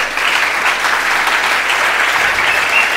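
Congregation applauding during a church service, a dense steady wash of clapping that fills the space loud and sustained throughout, with no voices rising above it.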